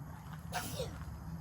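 One short, muffled sneeze breaks through a steady low hum in the background.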